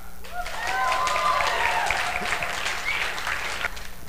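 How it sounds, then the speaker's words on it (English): An audience claps for the Floyd Fest guys, dense and steady applause from a crowd holding at full strength throughout, with a few light whistles or shouts mixed in. "You can clap for them."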